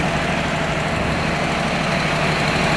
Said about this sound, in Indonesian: mesin mau mati